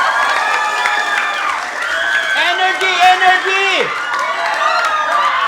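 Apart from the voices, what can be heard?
children clapping and cheering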